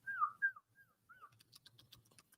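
A capuchin monkey gives a few clear, bird-like whistled chirps, short rising-and-falling notes close by, followed by soft scattered clicks and rustles.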